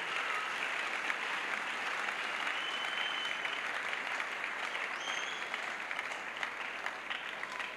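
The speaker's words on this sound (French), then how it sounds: "A clap offering to Jesus Christ." A large evangelistic crusade congregation claps steadily in praise to Jesus Christ, a dense, sustained wash of applause from a big crowd with no break, heard from a distance.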